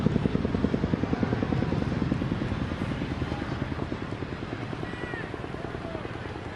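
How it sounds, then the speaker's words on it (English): A low-flying helicopter passes overhead, its steady rotor chop thumping loud and rhythmic throughout while faint voices talk underneath. "that the lowest flying helicopter we've had here in a while?"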